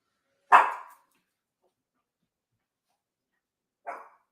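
A small dog named Astro gives two sharp, loud barks a few seconds apart, close by, with silence in between.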